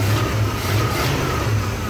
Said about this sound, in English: we have great off-idle throttle response on this engine.